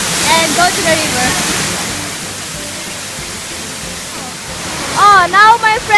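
Steady broadband rush of Sri Gethuk waterfall nearby, with voices talking over it at the start and again near the end.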